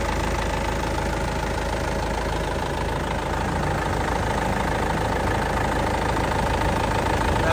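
A warmed-up 2008 Isuzu Panther LS engine idles steadily up close, a continuous low diesel rumble with a faint knocking texture and no change in pace, with no talking.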